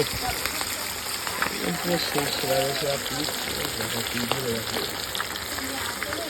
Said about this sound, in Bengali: এবার কিন্তু যাবে মাছ, রুই মাছ। এখন চলে গেল একদম গরম তেলের ভিতরে।